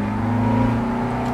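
A steady engine hum from a legendary car, a deep droning note with strong low harmonics, held at a constant pitch throughout the brief moment without any clear rise.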